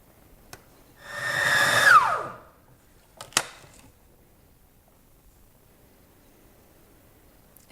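A kitchen food processor mixing energy ball dough whirs for about a second, its motor pitch dropping as it slows, followed by a brief clunk, then near silence.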